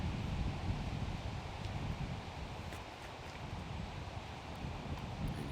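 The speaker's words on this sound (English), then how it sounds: "here you see the wind picking back up again" Wind gusts steadily across an outdoor disc golf course at a professional tournament, a dense rushing roar with rustling and mic buffeting that fills the whole stretch without any speech.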